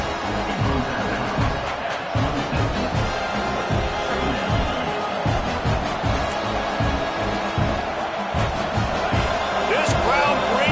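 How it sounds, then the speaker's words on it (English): Roaring football stadium crowd noise builds early in a game, a dense continuous wall of cheering and chatter with a play-by-play announcer talking over it. "This crowd bringing the energy and noise early"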